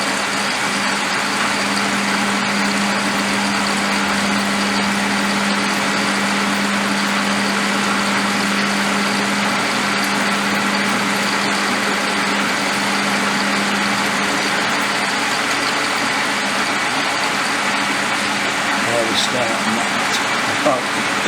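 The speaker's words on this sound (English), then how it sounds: "First thing I'm going to do is drill it to the tapping size for 5/16 fine" A 3/4-inch round bar is drilled to tapping size for a 5/16 fine thread, giving a steady, unbroken machine hum with a constant low drone that runs loud and even throughout.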